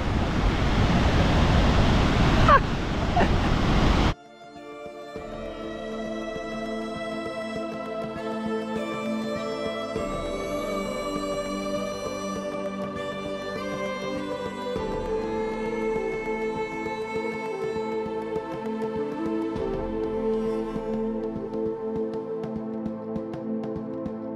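A high-flow waterfall sends a loud, close rush of water spraying toward the listener for a few seconds, then the roar cuts out and gentle instrumental music plays on its own.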